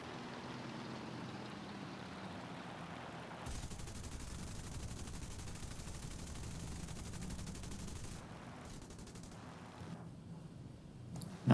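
Turret machine guns on a Sunderland bomber fire in War Thunder as a steady, fairly faint rattling stream of gunfire, growing denser midway, over continuous engine drone with no talk.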